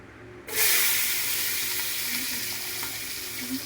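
Chopped vegetables tipped into hot oil for mixed fried rice flare into a loud, sudden sizzle that settles into a dense, continuous frying hiss, close and without any talk.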